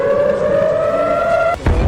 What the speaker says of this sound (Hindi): ईरान की नई कार्रवाइयों के बायस इसराइल के शहर में फिर सायरन बज उठे।